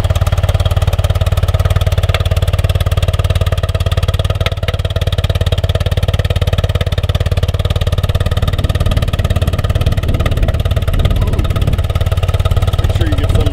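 A 1982 BMW R65LS motorcycle engine runs at a steady idle, close and loud, a continuous even thrum with faint handling noises nearby.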